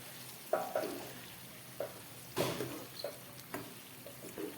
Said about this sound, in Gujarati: હવે તેમાં આપણે ભરેલા રવૈયા છે તેને પણ નાખી દઈશું અને સારી રીતે મસાલાની સાથે મિક્સ કરી દઈશું